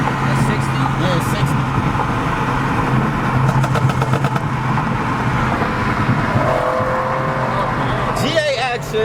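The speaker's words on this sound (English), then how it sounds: "Basically a fully maxed out Camaro from factory" A 2020 Chevrolet Camaro 2SS heard from inside the car, its engine a loud continuous drone under acceleration, with tyre and road roar, and people talking over it.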